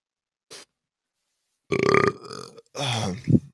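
Person burping straight into a podcast microphone, a short faint blip followed by two long, loud, close croaking burps, the last ending in a rough gurgle.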